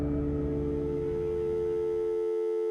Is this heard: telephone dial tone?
yes